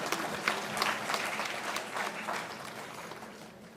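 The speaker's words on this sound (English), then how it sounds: "Yeah, you can clap for them." Conference audience applauding in a hall, a lively wash of many hands clapping that holds steady and then slowly thins out toward the end.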